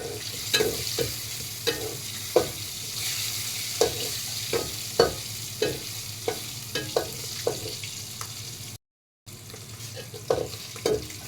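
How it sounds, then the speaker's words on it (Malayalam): Fish crackling and sizzling in hot oil, with a series of sharp spatters and pops over a low steady hiss, fairly close and without talk. "പേടിച്ചിട്ട് കുറേശ്ശെ വറുത്തെടുക്കുവാണ് കേട്ടോ"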